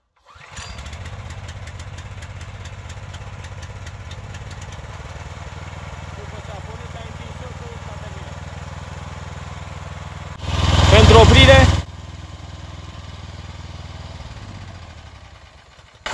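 A mini tractor's small engine starts with its choke pulled and then runs at a steady, even idle, swelling briefly to a louder burst before settling back.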